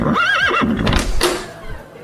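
A horse whinny sound effect rings out loud and close, a rising and falling neigh followed by snorting and a few soft hoof-like knocks.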